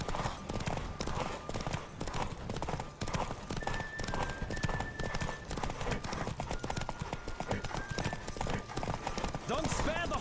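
Galloping horse hooves thud in a rapid, continuous rhythm in The Witcher 3 video game, with a brief whinny near the end, all under game music and a speaking voice.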